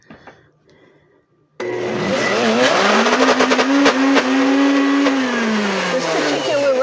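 After a short quiet moment, a kitchen blender starts abruptly for a cooking-class recipe and runs loud and steady, with a whining motor pitch that rises and dips as the contents churn.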